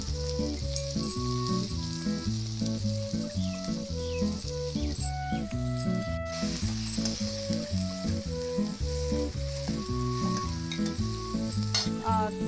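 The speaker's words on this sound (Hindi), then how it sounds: "अब इसमें हम प्याज डालेंगे" Onions frying in hot oil with asafoetida and panch phoron spices for an eggplant dish, a steady close sizzle and crackle throughout with occasional stirring, no talking.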